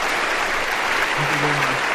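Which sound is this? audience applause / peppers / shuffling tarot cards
audience applause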